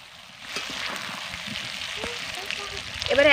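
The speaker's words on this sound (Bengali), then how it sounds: "এবার 1 মিনিট মতন সময় ধরে কষিয়ে নেব" Spices and boiled potatoes sauté in a pan for fish biryani, giving a soft, steady sizzle close by, with a few light stirring clicks and a brighter crackle near the end.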